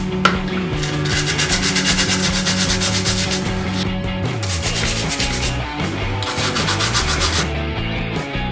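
Gentle, repeated sanding strokes rub across a resin model kit part for an Alien Queen chestburster, following the grain in a steady back-and-forth rhythm, close up and alone.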